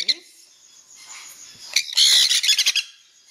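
Baby Jenday conures chirp and squawk in a short burst of close, shrill calls, with faint sounds before a louder cluster of rapid calls in the second half.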